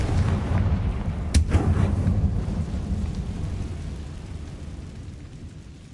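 Confringo fire spell blast from Hogwarts Legacy: a single sharp crack early on, then a deep, thunder-like rumble that slowly fades, with no voices.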